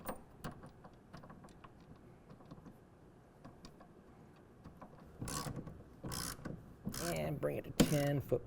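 A wrench ratchets a clamp tight on the T-slot rail of a BAKFlip MX4 hard folding tonneau cover beside a pickup tailgate, torqued to 10 foot-pounds. Quiet at first, then several close bursts of rapid metallic clicking in the last few seconds.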